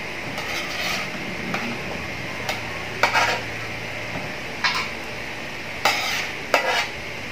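Green chili peppers fry in a pan with a constant low sizzle, while a metal utensil scrapes and clanks against the pan in sharp, irregular strokes every second or so.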